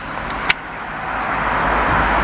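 An electric headrest motor in a BMW 7 Series E65 730d whirs steadily upward inside the cabin after a single click of the button, a soft, rising hum that holds for about two seconds.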